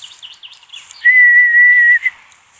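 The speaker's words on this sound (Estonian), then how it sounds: "Ma treenisin ratsalaagris vilistamist." A person whistles outdoors in a fenced yard, a skill practised at a horse-riding camp: a few quick chirpy warbles, then one loud, clear, steady note held for about a second and ending abruptly.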